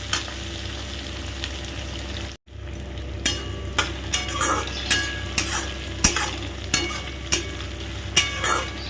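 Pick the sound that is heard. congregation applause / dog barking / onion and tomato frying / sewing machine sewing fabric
onion and tomato frying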